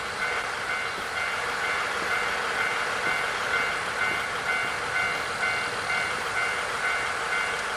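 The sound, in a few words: train waiting at station in video game Nostalgic Train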